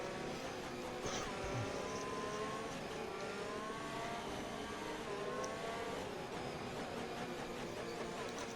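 Onboard race car engine in an F1 racing game at Imola, a steady high-pitched wail rising and falling through gear changes, loud and continuous with no voices.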